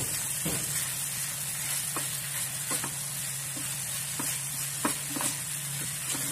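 Lean meat with galangal, ginger, turmeric, bay leaves and spring onion stir-frying in a pan: a continuous close sizzle broken by regular spatula scrapes and knocks, no voices.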